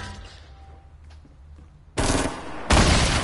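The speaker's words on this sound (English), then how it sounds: "who else is shooting at him?" Automatic gunfire in Fortnite erupts after a quiet stretch, one sustained loud burst followed by a second even heavier, closer volley, no talking over it.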